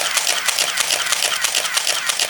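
Minolta X-700 film camera with its motor drive firing in High mode, a rapid, even train of about eight sharp shutter-and-advance clicks, roughly three per second, close and alone.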